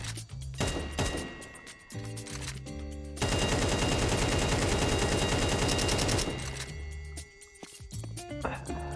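A rifle empties a full magazine on a Counter-Strike 2 training map: loud game gunfire with scattered shots, then a sustained rapid burst of about three seconds before single shots resume.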